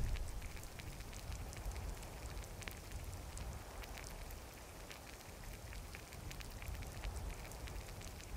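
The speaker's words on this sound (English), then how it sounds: "And it is still raining." Soft, steady patter of rain in a video game, a quiet continuous hiss with scattered drop ticks, alone without talking.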